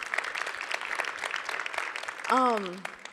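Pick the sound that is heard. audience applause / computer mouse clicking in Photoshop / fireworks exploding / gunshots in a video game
audience applause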